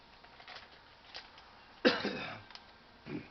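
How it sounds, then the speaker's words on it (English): A single sharp cough stands out near the middle, with softer throat noises before and a smaller cough-like burst near the end, close to the microphone. "Excuse the cough."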